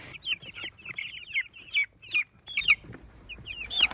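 Nearly three-week-old chicks peep and cluck close by, a busy run of short, bright chirps tumbling over one another in quick irregular bursts.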